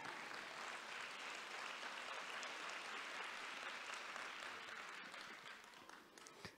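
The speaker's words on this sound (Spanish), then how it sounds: "Dale palmas a Jesús." A church congregation at a national intercession gathering applauds in steady, dense clapping that holds for several seconds before thinning out at the end.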